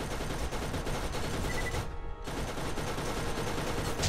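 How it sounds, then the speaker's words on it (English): Sustained enemy gunfire in Borderlands, dense rapid shots forming a loud continuous barrage with a brief lull midway, then firing resumes close by. "They just keep shooting at me for no reason."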